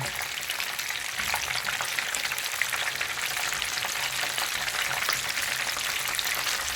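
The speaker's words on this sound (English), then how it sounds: "let these fry up and get nice and crisp on that side" Chicken tenders fry in hot oil with a steady, dense sizzle and crackle that stays close and even throughout, with no voices.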